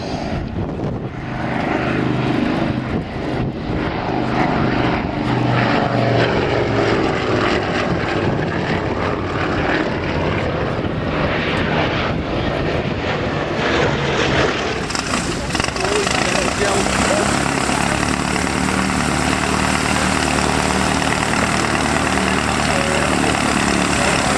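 A vintage Avro Anson twin-engine aircraft with two 420 horsepower Armstrong Siddeley Cheetah radial engines drones steadily at an air display, a loud continuous propeller roar that brightens partway through, with announcer talk over it.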